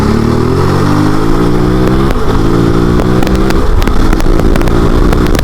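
A 2024 KOVE 450 Rally motorcycle pulls hard through its gears, a loud, close engine roar whose pitch climbs steadily and steps through quick shifts, with rattly clatter mixed in.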